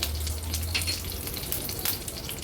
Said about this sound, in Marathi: फोडणीला कढीपत्त्याची पानं घालूया थोडस हिंग घालते अर्धा चमचा राई